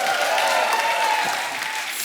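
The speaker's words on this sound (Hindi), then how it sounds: "एक बार जोरदार ताली हो जाए मेरी." Studio audience applause on a Hindi comedy talk show, a dense, steady burst of clapping lasting about two seconds, with a faint sustained tone running under it.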